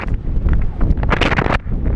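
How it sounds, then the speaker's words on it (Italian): Strong winter wind at Gullfoss waterfall in Iceland, a loud continuous roar buffeting the microphone, with rushing gusts that swell at the middle of the clip and ease toward the end. "Vento allucinante."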